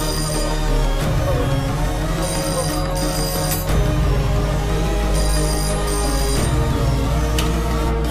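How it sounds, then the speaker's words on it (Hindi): A telephone ringing on a call home in a film scene, a steady electronic ring in repeating bursts, loud and continuous, layered over dramatic background music. "पहले घर फोन करके देखो"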